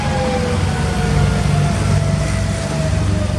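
A 1994 Daewoo G30S-2 LP gas forklift on pneumatic tires runs up close by, its engine holding a steady, loud, continuous drone with a low rumble and no voices over it.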